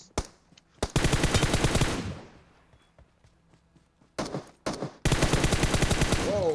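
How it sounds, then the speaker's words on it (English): Gunfire from the mobile battle-royale game PUBG Mobile: two long rapid automatic bursts, loud and close, split by short single cracks and a quiet gap, then more shots and another sustained volley near the end. "Oh, shots?"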